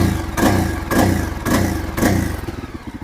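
A Royal Enfield Himalayan motorcycle engine is revved in four loud, rhythmic bursts that each rise and fall back toward idle. It is close, with no talk over it.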